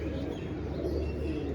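Fati Khan flying pigeons coo softly in a backyard loft, a low, murmuring warble under steady background noise with faint chirps and no talking.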